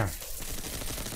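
Rapid gunfire in Destiny 2 competitive PvP play rattles in a quick, dense burst of overlapping shots, fairly quiet and heard alone.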